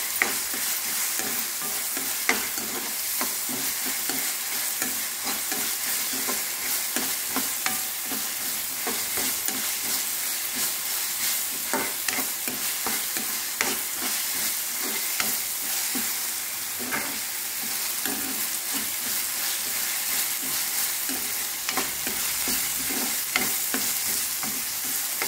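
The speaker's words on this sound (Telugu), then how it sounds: "అల్లం వెల్లుల్లి పేస్ట్, దీన్ని కూడా వేసి" Two tablespoons of ginger garlic paste fry over a low flame in a pan, with a steady close sizzle and frequent scraping stirs that keep a busy, even rhythm throughout.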